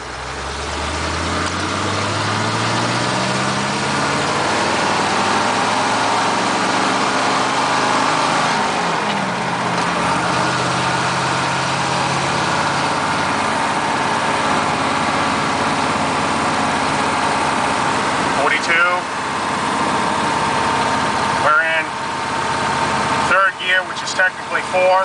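Chevrolet K30 truck with a 6.2 diesel and NV4500 gearbox driving on a main road, a loud steady engine drone with rising and falling pitch through the gears, continuous throughout with some rattles near the end.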